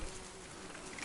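Wasps buzzing around a nest near a forest cabin, a faint, steady, continuous hum with a soft insect drone throughout the short moment.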